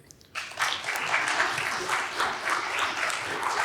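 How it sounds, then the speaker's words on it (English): An audience at a Chamber of Commerce candidate forum breaks into applause for two candidates, a full, steady wash of clapping starting abruptly and sustained throughout, with faint voices beneath. "Please, a round of applause for both Candidate Heaton and Representative Shipley."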